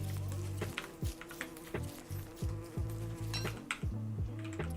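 Bees in Don't Starve Together, a soft low buzzing hum under repeated clicking and tapping game effects, faint and close.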